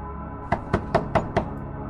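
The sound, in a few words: three short knocks on a metal door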